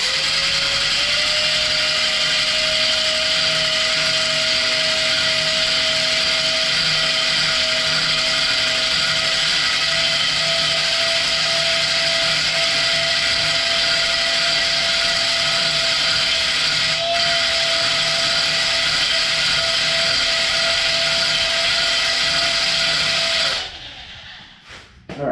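A cylinder hone spins inside the bore of a small-block Chevy engine, giving a loud, continuous high whine and hiss with a steady pitch that holds for over twenty seconds before abruptly stopping near the end.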